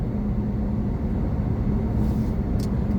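Road traffic passing in downtown Roanoke, a steady broadband rumble and road noise with a faint hiss that stays even throughout, no voices.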